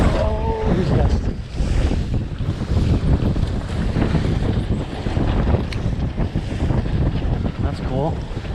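A strong wind gust buffets a sailboat out on the water, with steady loud roaring wind noise and wave wash throughout and brief voices in between.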